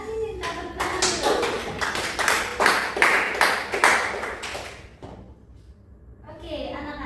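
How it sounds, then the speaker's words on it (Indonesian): Children in a fourth-grade primary school science classroom applaud after a group presentation, with several seconds of brisk, rhythmic clapping close by that fades out before a voice speaks. "Tepuk tangan dulu."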